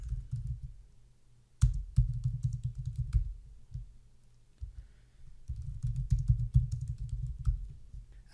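Password being typed on a computer keyboard, bursts of close key clicks and clatter in irregular runs with short pauses between them.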